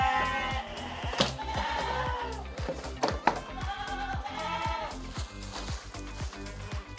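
Etawa crossbreed goats bleat repeatedly from their pen on a small farm, their nasal cries overlapping with scattered clicks and knocks close by.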